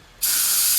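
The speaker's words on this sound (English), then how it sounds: "And then I'll spray some through the hose" A sharp, loud aerosol spray of cleaner bursts on suddenly and hisses steadily at close range, forced into the clutch hydraulic hose of a Honda Civic.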